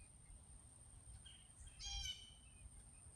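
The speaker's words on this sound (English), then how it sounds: "Confirmation Blue Jay." Blue jay outdoors giving a single short, harsh call at mid-distance, faint over a steady low background hum and a high constant tone.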